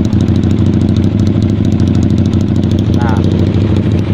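A two-cylinder Honda Tiger motorcycle with a touring tune idles close up, its steady, even rumble loud and unbroken throughout.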